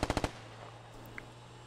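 A quick burst of four gunshots in the military shooter video game Squad, sharp and evenly spaced at the very start, followed by a quiet hum and faint ambient noise.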